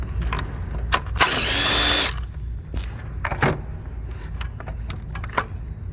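Ratchet turning out a 10mm bolt on the electronic brake control module of a 2014 Chevrolet Equinox, heard as a second-long burst of rapid clicking with scattered metallic taps and clinks before and after, close and fairly loud.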